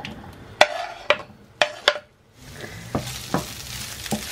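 Sausages sizzle in a pan with a little extra-virgin olive oil, with sharp crackling pops and clicks of the pieces being added and stirred, close and clear.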